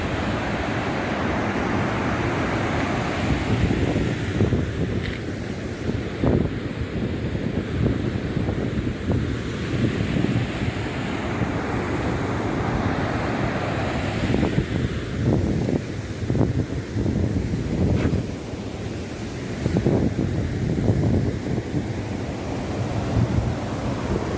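Water and wind at Mallimadugu reservoir, a constant broad rush of wind buffeting the microphone over lapping water, loud and unbroken with occasional stronger gusts and no voices.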